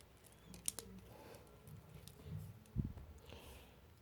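Scissors snip off excess thread while a beaded bag is being made, giving a few faint, brief clicks and a soft cut against quiet room noise.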